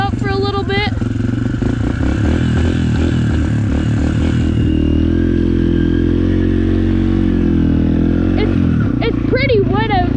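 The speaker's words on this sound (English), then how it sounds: "we're going to be riding my dirt bike" A cold dirt bike idles and revs unevenly during warm-up on a wet day, with choke just taken off, the engine running loud and continuous with rattly clatter while someone talks over it.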